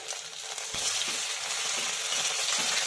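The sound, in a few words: boiled potato pieces sizzling in oil with mustard, cumin, asafoetida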